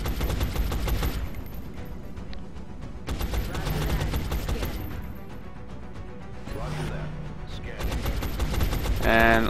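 Gunfire in the turn-based strategy game XCOM: Long War, dense bursts of shots and impacts recurring through the clip alongside game effects, with a voice talking between them.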